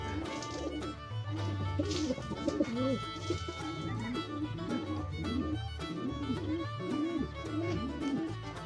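Two domestic pigeons coo in close, repeated rolling calls, a steady rhythm of soft throaty phrases with occasional faint chirps from other birds nearby.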